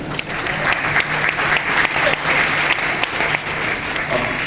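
Audience applause at a lively Hindi lecture by Dr. Lakshyaraj Singh Mewar in Kashi: loud, sustained clapping that swells and dips, with some crowd voices mixed in.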